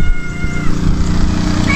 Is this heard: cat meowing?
yes